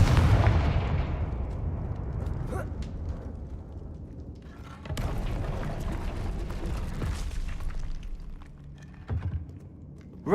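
Confringo blasting spells explode in Hogwarts Legacy, several heavy booming blasts at irregular intervals with crackling debris and rumbling aftermath, loud and close.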